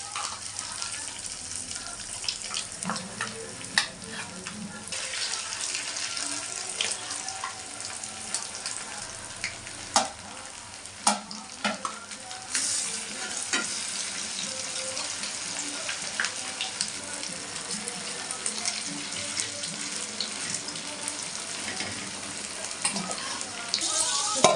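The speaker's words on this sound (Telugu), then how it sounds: "ఫిష్ ఫ్రై చేద్దాం ఫ్రెండ్స్." Fish frying in oil crackles and sizzles steadily for a long stretch. Clicks, clatter and occasional sharp pops of handling and turning sound over it.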